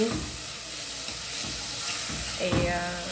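Onions frying in a pan for rice, browning in oil with a steady sizzle, occasional stirring scrapes, and a louder burst of sizzling near the end.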